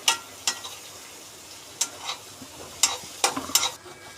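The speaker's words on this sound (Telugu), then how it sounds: "ఫస్ట్ బటర్ వేసుకొని బాగా హీట్ చేసుకొని తర్వాత capsicum, carrot, beans, spring onions, green chilli వేసుకోవాలి." Capsicum, carrot, beans, spring onion and green chilli fry in hot butter, with a soft steady sizzle broken by several sharp clinks and scrapes of stirring, close up and without talk.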